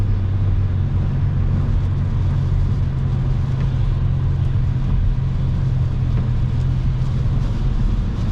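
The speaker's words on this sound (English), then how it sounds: "That sound was hydroplaning." Car tires hydroplaning on a wet road: a continuous loud low rumble and hissing wash of tire and engine noise inside the car, steady throughout with no voices.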